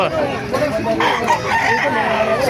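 Roosters crowing and clucking amid the crowded bustle of a chicken market in Bocaue, Bulacan, with several birds calling at once, loud and close, and people talking beneath.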